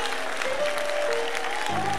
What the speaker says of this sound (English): Clap your hands and shout.